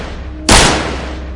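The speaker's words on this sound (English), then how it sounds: "That's when 2 gunshots could be heard." A single sharp, loud gunshot bursts out abruptly inside a school building, then a short ringing decay fades into low background noise.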